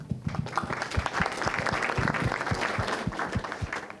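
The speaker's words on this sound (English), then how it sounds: "we all deserve a round of applause in this room" Applause from a room full of people at a community oversight advisory board meeting, a steady patter of many hands clapping together at moderate volume.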